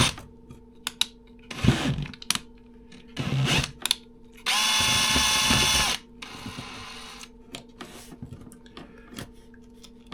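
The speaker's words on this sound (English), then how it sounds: "once I drill it, obviously there's no going back" A power drill whirs steadily for about a second and a half, close by, drilling a 2025 Can-Am rear trunk box mount, between scattered clicks and knocks of handling.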